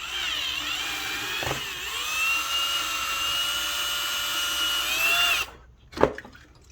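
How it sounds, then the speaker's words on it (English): A power drill whines steadily at close range for several seconds while enlarging a valve hole in a pump foam sprayer, its pitch dipping briefly, then cuts off, followed by a sharp clunk. "Let's drill this out a little bit."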